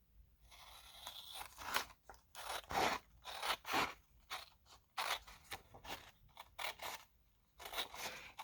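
Scissors cut through folded paper in a series of close, crisp snips and crunchy slices, coming in irregular bursts separated by brief pauses.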